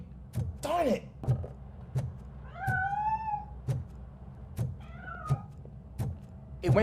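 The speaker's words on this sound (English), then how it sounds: "That cat must be hiding inside." A cat meows repeatedly in the video game RoboCop Rogue City, several short rising and falling mews spaced apart over rhythmic ticking game sounds, fairly close and clear.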